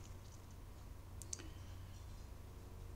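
A computer mouse click sounds on a desk while the Carveco website is browsed: a single short, crisp click near the middle, close and faint over a steady low hum, with no talk.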